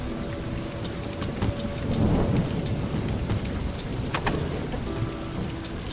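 Steady heavy rain and a thunderstorm on a dark night in the video game Scouting Party, with continuous dense rainfall and a low rolling rumble of thunder swelling briefly in the middle.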